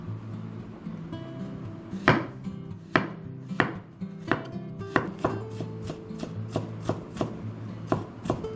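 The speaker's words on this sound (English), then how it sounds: "15 grams of ginger minced" A knife mincing ginger for parippu vada strikes a cutting board in a string of crisp, close taps, spaced at first and then coming faster and more regular, with no voices.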